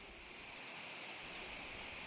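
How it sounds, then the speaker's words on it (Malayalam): The Thalamaly waterfall near Adimali roars in a constant, dense rush of falling water during the monsoon, steady and faint without pauses. "ഈ ജലപാതത്തിന്റെ ഒഴുക്കും ഇരമ്പലും കണ്ടും കേട്ടും യാത്ര തുടരാം"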